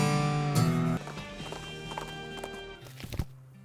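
Horse hooves clip-clop in the cartoon western game West of Loathing, a steady run of hollow knocks over background music, fairly close and moderately loud.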